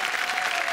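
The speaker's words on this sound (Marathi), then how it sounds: "जोरदार टाळ्या दोघींसाठी." Steady applause from a studio audience at a Marathi comedy show, dense and continuous for a brief burst with no voices on top.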